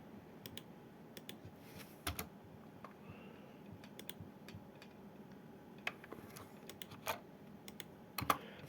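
C code is typed on a computer keyboard in quiet, close, irregular clicking with occasional louder keystrokes and short pauses.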